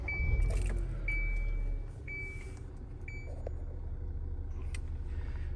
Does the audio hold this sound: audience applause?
no